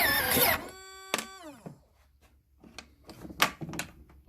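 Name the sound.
Jetsurf motor trying to start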